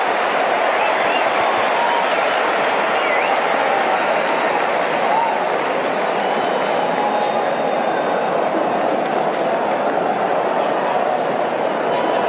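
A cricket crowd at a super over roars and yells continuously, a dense, steady wall of cheering and clapping with scattered shouts throughout, heard at a distance under no clear talk.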